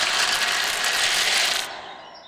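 Hatchling birds cracking through their eggshells in a nest make a loud, rapid ratchet-like crackle, sustained and even, then break off sharply toward the end with a faint fading remainder.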